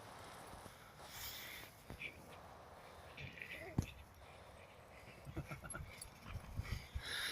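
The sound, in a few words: dogs playing, chasing a stick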